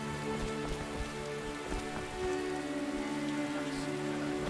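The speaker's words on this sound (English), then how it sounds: "Some rain." Soft, steady rainfall in the video game The Witcher patters on surfaces, with a low sustained hum underneath and no talking.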